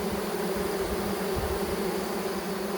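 A steady, continuous buzzing hum of many honeybees fanning their wings, close by and unbroken throughout with no talking.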